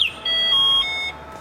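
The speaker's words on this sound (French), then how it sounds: "la télécommande pour démarrer, éteindre le scooter ou enclencher l'alarme intégrée de série" The integrated alarm on an e-Bonsai Chappy electric 50cc scooter gives a short electronic beep sequence: a quick chirp, then a sustained steady tone lasting under a second, clear and close, with no talking.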